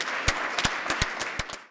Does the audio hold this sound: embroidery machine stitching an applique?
no